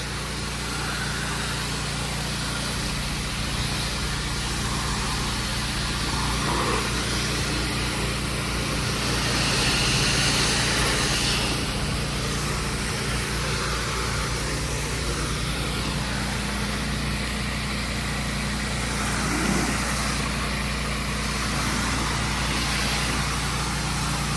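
A pressure washer driven by a steady engine rinses a building, a constant droning motor with a faint hiss of spray continuing for a long stretch without talk.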